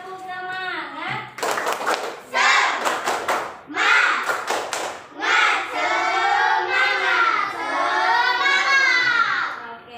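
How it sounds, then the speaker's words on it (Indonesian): A school class performs a rhythmic 'tepuk semangat' clapping chant, children's voices chanting in unison between sharp, patterned bursts of clapping, close and lively. "coba tepuk semangat dulu biar kita lebih semangat belajarnya"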